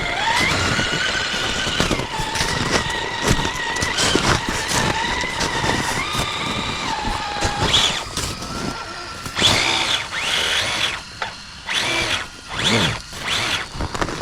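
A Traxxas TRX-4 Sport RC truck driving through snow, its electric motor whining loudly and rising and falling in pitch with throttle, along with churning and grinding, close and continuous.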